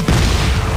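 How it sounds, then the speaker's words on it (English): A single shotgun blast from the video game Dead Space 3 hits hard and close, a loud boom that fills the short moment and rumbles out. "The shotgun makes quick work of these guys."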